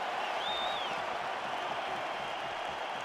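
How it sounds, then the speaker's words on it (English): A video game arena crowd in EA Sports UFC roars with steady cheering and applause after a round, a dense, continuous wash of noise with no clear break across the few seconds. "the crowd voicing its appreciation after that round"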